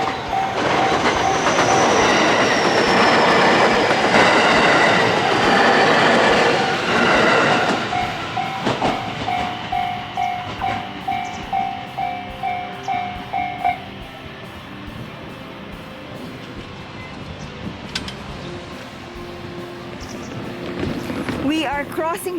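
A train rumbles past nearby with rhythmic clickety-clack from the wheels, then fades to a quieter hum as it slows, with some talk mixed in.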